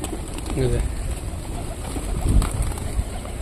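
Pigeons coo near someone feeding them by hand, soft low murmuring calls over a constant background hiss, with a person talking throughout.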